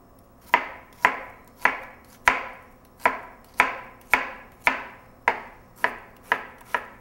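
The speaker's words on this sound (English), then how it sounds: "we're going to take our onion, we'll chop that up, about a half of an onion." A knife chops through half an onion on a cutting board in about eleven sharp, evenly spaced strokes, each a crisp close thud with a short ring-off, and no speech.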